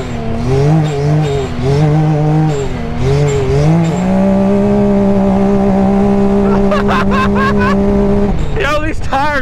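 A Can-Am X3 side-by-side accelerating hard with its tires spinning and sliding, loud engine revs rising and falling in surges, then a steady high drone, recorded close on board, with loose squealing toward the end.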